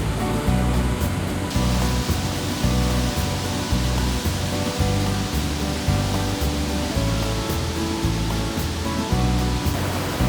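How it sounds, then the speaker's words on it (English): The Upper Falls of the Yellowstone River, dropping 109 feet, roar as a loud, steady wash of falling water that fills the whole scene without a break. "we were met with a rewarding view of Yellowstone River spilling down 109 feet"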